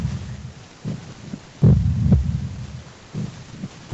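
A deep heartbeat sound effect thumps in the Roblox horror game The Mimic, Chapter 3, with heavy, uneven low pulses over a humming background.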